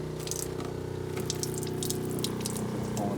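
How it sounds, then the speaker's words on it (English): A boat's freshwater pump runs with the cold tap open, a loud, steady pump hum under continuous gushing, spattering water from the faucet, with no talk. "turn the water pump on, and turn the cold water on"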